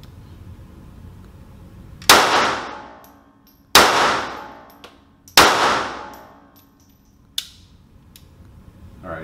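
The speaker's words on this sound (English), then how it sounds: "we're gonna run a couple rounds through the CPX-3" SCCY CPX-3 double-action-only pistol firing three sharp reports at uneven intervals, each a loud close crack with a ringing decay, followed by a fainter fourth impact.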